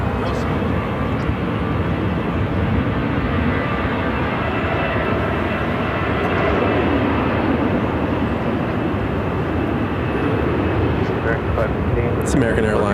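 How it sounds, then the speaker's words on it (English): An American Airlines Airbus A319 jet airliner at Phoenix airport gives a continuous loud engine rumble and hiss, steady for the whole stretch, with voices faintly under it. "It's American Airlines 2134 headed to Santa Rosa on an A319."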